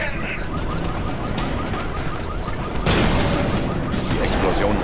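An explosion in the video game Batman Arkham Knight, during a Batmobile fight, lands as a sudden loud boom partway through, followed by a sustained rumbling blast over game noise and faint beeps.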